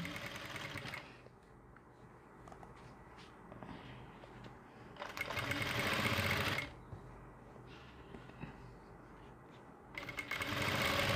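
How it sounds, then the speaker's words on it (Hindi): A sewing machine stitches pads around the cup area of a kameez in three short runs, at the start, the middle and the end, with quieter handling of the fabric between the bursts. "मैं आपको पूरी कटोरी पे सिलाई लगा के दिखा देता हूँ"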